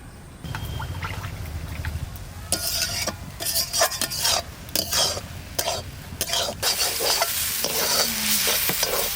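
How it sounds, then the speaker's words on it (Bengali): Water spinach greens frying and being stirred in a pan, with a steady sizzle under repeated scraping strokes of a utensil against the pan, close and moderately loud, with no talking. "শাকটা ভাজা ভাজা হয়ে গেছে"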